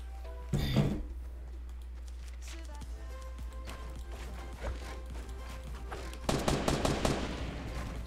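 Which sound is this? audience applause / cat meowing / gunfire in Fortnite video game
gunfire in Fortnite video game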